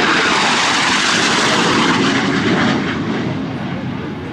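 A loud, roaring jet rushes past low and close at about 0.95 Mach during the 2011 NAS Patuxent River Air Expo, a sustained broadband howl that fades slightly as it moves away.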